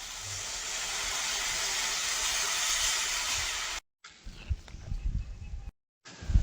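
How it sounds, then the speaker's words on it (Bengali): Water poured into a pan of hot fried spices for a fish and aubergine curry, setting off a loud broad hiss that holds steady, then cuts out to quieter bubbling and clatter. "এবার জল দিয়ে দেবো।"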